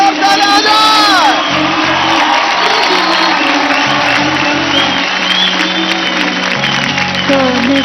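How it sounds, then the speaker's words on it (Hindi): A television dance competition studio crowd claps, whoops and cheers loudly throughout, while a host's voice carries over the noise and music-like tones rise and fall. "Come on Madhuri ji please, जोरदार तालियां आ जाए।"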